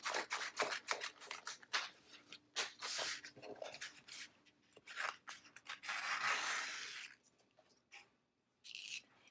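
Scissors trim a vinyl sheet in a run of quick, close snips and longer rasping cuts, bursts separated by short pauses, fairly quiet and with no talking.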